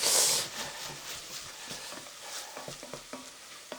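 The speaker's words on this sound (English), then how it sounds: "Whilst the leeks, the celery and the garlic are sizzling away in the pan" Leeks, celery and garlic sizzle steadily in a frying pan, with a soft hiss and scattered light scraping and stirring clicks close by.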